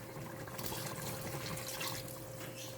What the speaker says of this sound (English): So we're going to add some more water.